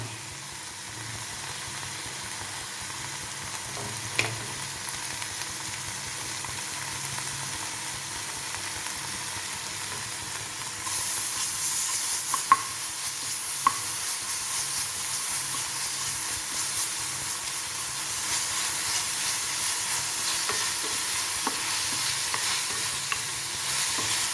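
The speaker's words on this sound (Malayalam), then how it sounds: "ഇനി നമുക്ക് ഇഞ്ചി വെളുത്തുള്ളി പേസ്റ്റ് ചേർക്കാം" Ginger garlic paste fries and is stirred in a pan for a fish curry with mango, a continuous hissing sizzle with occasional scrapes that grows louder and brighter partway through.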